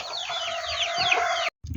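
A farmyard hen sitting in her nest gives a continuous run of high clucking and chattering calls up close, breaking off abruptly near the end.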